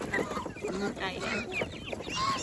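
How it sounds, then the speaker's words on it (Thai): Chickens on a small farm where ducks and chickens are raised, clucking and calling in overlapping bursts throughout, with a busy, close barnyard feel and some background noise. "ไก่"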